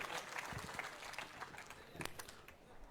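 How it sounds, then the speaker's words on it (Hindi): Faint, distant applause from the crowd at a Muslim mahapanchayat rally in Jhunjhunu, a thin patter of scattered clapping lasting a few seconds, with some voices mixed in. "एक बार जोरदार तालियों के साथ अभिनंदन और स्वागत।"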